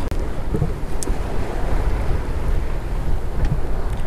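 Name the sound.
sailboat under sail on port tack, wind and waves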